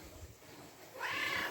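A domestic cat gives a single brief meow at the end, faint and close, after a moment of near silence.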